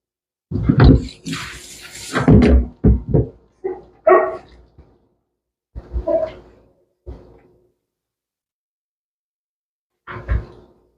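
Dogs bark in quick bursts while playing during a Shih Tzu grooming session, a cluster of close, loud yaps early on followed by scattered single barks separated by silence.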